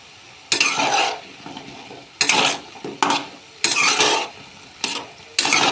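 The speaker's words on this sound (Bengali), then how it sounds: "তেলটা গরম হওয়ার পর বড়াগুলো ভেজে নেব" Lentil fritters (bora) frying in hot mustard oil, heard as close bursts of loud sizzling and spatula scraping in separate spells with quiet gaps between them, with no talk.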